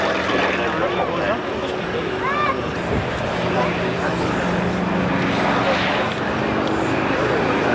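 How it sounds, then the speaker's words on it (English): Aerobatic aircraft performing at the RAF Valley air show on Anglesey in 1991, a steady continuous engine drone heard at a distance, with a commentator talking over it. "Again, another push there. Upside down means nothing to Richard, obviously."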